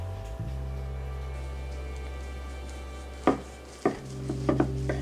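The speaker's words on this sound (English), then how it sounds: "Let's cut it up and see the insides." A knife slicing through a vegan French toast sandwich filled with chocolate spread and pumpkin, a few distinct crisp cuts against a board near the end, with a low steady hum underneath.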